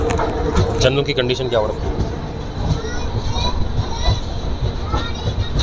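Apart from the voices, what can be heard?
Malwa Superfast Express train at a railway platform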